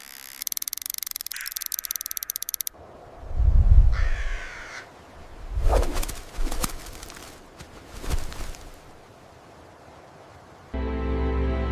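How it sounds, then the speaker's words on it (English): A common raven calls in a series of deep, croaking notes spaced a couple of seconds apart, clear and fairly close, separated by quiet gaps, with brief bursts of other sound at the start and end. "the majestic common raven"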